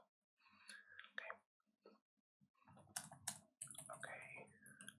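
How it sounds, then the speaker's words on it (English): Quiet, close keyboard typing in an intimate nighttime ASMR setting, clustered bursts of soft clicks in irregular rhythm, interleaved with faint whispering. "Believe me, I am good at typing."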